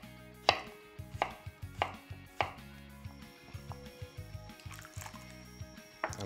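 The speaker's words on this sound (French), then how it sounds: "Et ensuite, je taille en cubes." A knife chops peeled starchy potato into cubes on a board, giving a quick run of crisp, evenly spaced taps up close, with a few wet, squishy touches between the cuts.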